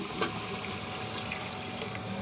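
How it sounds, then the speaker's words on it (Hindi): Water being poured into a pot of vegetable rice with potatoes, a quiet steady splashing flow close by, with no voices. "अब मैं इसमें पानी डालूँगी।"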